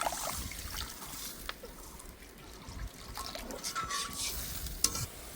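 Water poured into a pan of fried spices for a fish curry, a soft continuous trickle and sizzle with stirring and light clinks, close and moderately quiet, with no talking.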